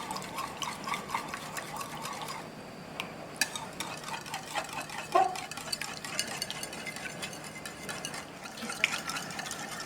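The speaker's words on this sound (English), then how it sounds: "So keep mixing, making sure that there's no clumps in here." Batter for a homemade fried chicken sandwich coating is whisked steadily in a bowl to break up the clumps, producing a continuous wet clicking and sloshing, close and fairly even, with no speech.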